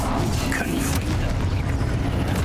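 In Hogwarts Legacy, a Confringo fire spell bursts in a loud, dense, rumbling blast that keeps roaring without any break.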